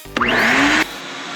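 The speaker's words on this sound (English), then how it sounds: "Now we have a vacuum here, so we're gonna turn this on." A vacuum cleaner switches on with a quick thump, and its motor whine climbs in pitch and then holds a loud, steady roar for under a second before cutting off, close by in an indoor room.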